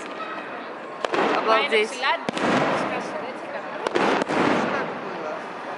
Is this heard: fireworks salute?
yes